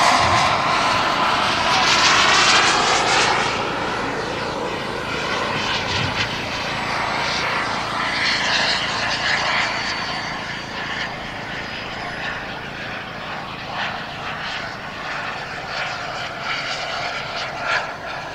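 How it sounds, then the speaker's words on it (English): F-18 fighter jet making a low pass at an air show in Kentucky, a loud roar that swells early, then fades into a rumbling, distant wash of engine noise with crowd ambience. "F-18, faster on final."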